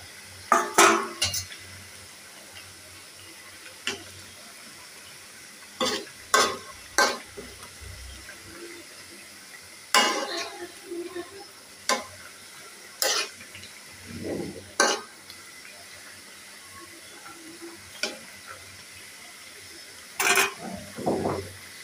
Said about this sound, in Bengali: তরকারি ফুটছে